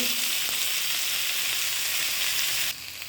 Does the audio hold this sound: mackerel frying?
yes